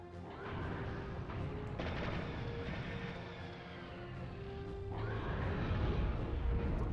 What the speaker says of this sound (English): he's shooting two missiles now